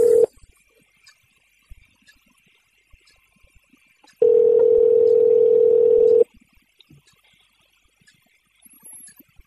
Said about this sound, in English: I'm calling him real quick.